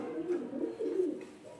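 Pigeons being paired coo softly in a low, wavering murmur, near and faint, with no speech.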